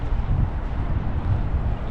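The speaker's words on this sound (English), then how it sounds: "It's windy." Wind gusts against the microphone in a low, continuous rumbling buffet, loud and close, with no voices.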